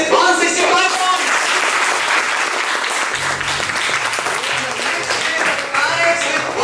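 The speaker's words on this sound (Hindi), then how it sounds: "हर एक टीम की ताली होगी।" A crowd applauds teams at a school league final, loud sustained clapping throughout, with a voice speaking over it on a PA.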